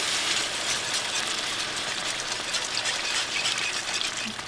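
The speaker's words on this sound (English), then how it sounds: "I'm going to go ahead and pour my little beef broth in here" Beef broth pours steadily into a hot pan of thickening gravy for hamburger steaks, a continuous close splashing gush with a faint sizzle and no talking.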